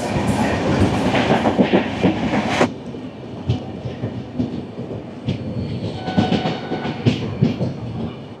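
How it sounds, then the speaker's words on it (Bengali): Kandari Express train on the Howrah to Digha line, running in the evening rain toward Tamluk: steady rumbling rail noise with clickety-clack wheel beats, loud at first, then dropping to a lighter, irregular clatter. "আমাদের ট্রেন হাওড়া থেকে 91 কিলোমিটার পথ চলে পৌঁছে গেল তার যাত্রাপথের 4র্থ স্টেশন তমলুকে"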